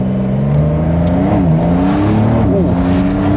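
A Porsche 911 Cabriolet of the 992 generation in Sports Plus mode holds a loud, close engine drone that rises and dips through brief rev changes, its pitch sliding up and down twice, with no talking over it.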